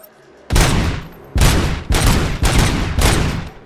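Gunfire from RoboCop's weapon in RoboCop: Rogue City. Five loud, close bursts of rapid shots, each lasting around half a second, arrive in a steady rhythm with short gaps between them.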